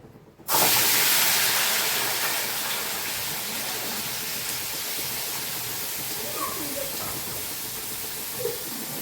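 Chopped ginger, garlic and shallots dropped into hot oil burst into a loud sizzle that settles into a steady, close hiss of frying.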